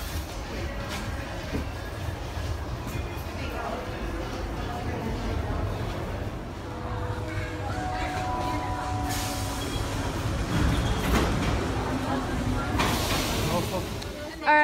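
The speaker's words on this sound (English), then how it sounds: "we're at the train station" Busy indoor train station ambience in Yerevan with rumbling trains, hissing air and a steady wash of crowd noise and distant voices throughout.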